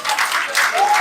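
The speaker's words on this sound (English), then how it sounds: "Clap your hands." Students applauding at an anti-drug campaign event held at a palace, a loud dense burst of many hands clapping together close by, steady for a full second.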